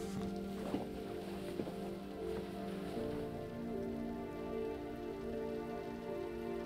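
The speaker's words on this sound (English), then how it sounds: "let's wait out the rain in the booth." Rain in the game Road 96 hisses on steadily for several seconds, with soft music-like tones underneath and a couple of faint knocks early on, and no voices.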